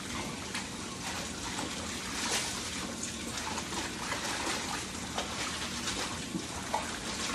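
Chopped collard greens are washed in water, giving a steady, close sloshing and trickling with occasional splashes throughout.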